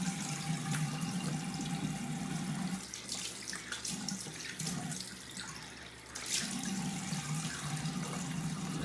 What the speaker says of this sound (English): That's a nice cold water rinse there.